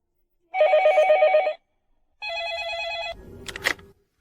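A telephone bell rings in two loud, clear electronic bursts about a second long each, separated by a short pause, in a quiet household scene of a Japanese drama, followed by a faint clatter.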